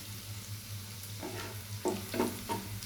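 Onions and onion greens fry in a pan as they turn brown, a steady low sizzle with a few louder crackling bursts and stirring scrapes near the end.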